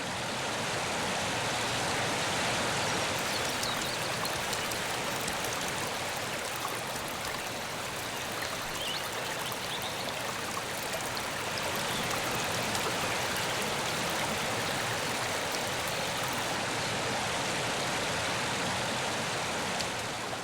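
The Aare River near its source in Switzerland flows like a small mountain stream, splashing steadily, a continuous bright rushing of water with no voices.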